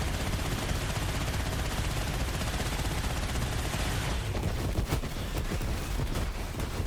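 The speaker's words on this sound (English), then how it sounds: "It's a full auto sniper." A full-auto sniper rifle in Borderlands 3 fires in a loud, dense, sustained barrage, the continuous roar giving way to distinct rapid cracking shots toward the end.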